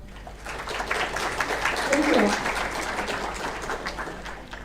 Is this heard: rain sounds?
no